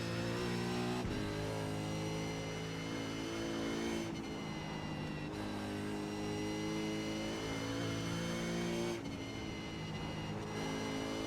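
A supercar's engine in the iRacing sim roars loud and steady through laps, holding sustained high revs with sharp dips at gear shifts, heard alone with no talk.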